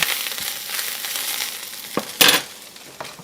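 Purslane stirred in a hot pan gives a steady hiss of frying with scraping bursts from the utensil, one louder scrape near the end; nearby and moderately loud, with no voices.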